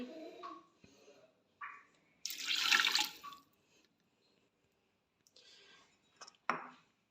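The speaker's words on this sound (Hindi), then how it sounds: "इसमें 1 प्याली पानी की डालेंगे" Water splashes and pours in short bursts into a cooking pot of qeema daliya nearby, with a louder gush in the middle and scattered clinks around it.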